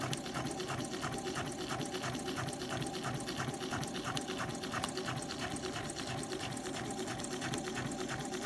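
A Juki DX7 sewing machine stitches continuously with a fast, even, rhythmic whirring chatter, close and steady throughout.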